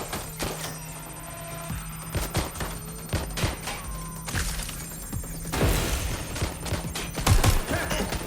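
Gunfire in the video game Watch Dogs: Legion: irregular bursts of sharp shots and heavy thuds, some clustered into rapid volleys, loud and close over a low game background.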